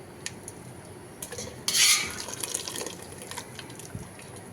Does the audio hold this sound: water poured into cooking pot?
yes